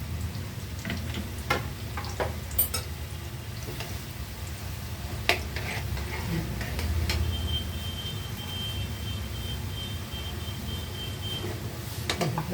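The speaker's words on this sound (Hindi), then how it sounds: "कढ़ाई गरम है, अब मैं इसमें ये देखिए मैं ये नमक पारे डाल दे रही हूँ।" Namak pare frying in hot oil in a kadhai over high heat, a steady close sizzle with scattered crackles and small pops running continuously throughout, no talking.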